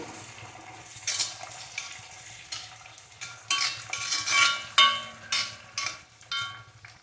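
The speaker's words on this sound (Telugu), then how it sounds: "వీటిని ఫ్రై అనిద్దాం. మూత పెట్టేసి ఫ్రై అనిద్దాం." Onions frying in a pan for cauliflower curry, with a steady sizzle and repeated close stirring and scraping strokes, plus faint clinks of a utensil against the pan.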